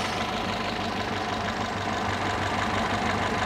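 The engine of a Mazda MR90 runs at a steady idle during a start-up test, a constant dense rumble with a hissing wash throughout, no voices.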